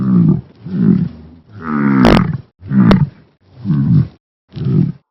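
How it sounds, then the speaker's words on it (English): An ox lows loudly and close by, a series of six deep drawn-out moos separated by short pauses, the middle calls rising into a strained, roaring bellow. "ox,"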